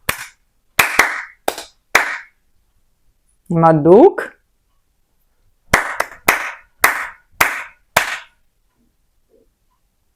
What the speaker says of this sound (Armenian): ես իմ ծափ տալու ընթացքում դուք մտքում երգեք, թե ինչ ռիթմ եմ ծափ տալիս